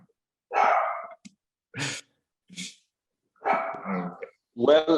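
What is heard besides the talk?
the speaker's pet dogs barking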